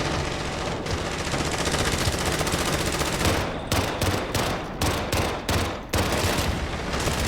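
Automatic and rapid gunfire in a co-op shooter video game, loud dense bursts of fire that run almost continuously, broken by a few short gaps toward the end.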